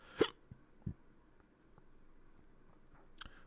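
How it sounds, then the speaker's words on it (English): A single sharp hiccup bursts out near the start, followed by a softer second one and a faint click later, with quiet room tone in between and no talking. "Sorry, I had a hiccup."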